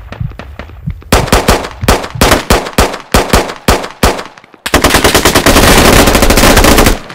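Gunfire in the tactical shooter Squad: a run of sharp, loud single shots and short bursts echoing in a battle, followed by a sustained rapid automatic burst of machine-gun fire at close range, with no talking.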